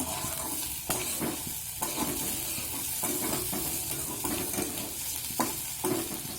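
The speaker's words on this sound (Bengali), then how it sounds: "আলু ভাজা হচ্ছে।" Potatoes fry in a hot pan over a raised gas flame, a steady loud sizzle broken by repeated scraping stirs at an irregular rhythm, close up with no talking.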